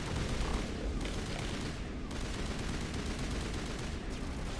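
Sustained gunfire rattles through a Mass Effect firefight with Shepard, dense overlapping shots and bursts forming a loud, continuous barrage.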